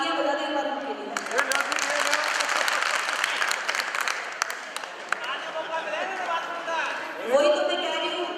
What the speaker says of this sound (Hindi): तालियां बजा दें एक बार उनके लिए।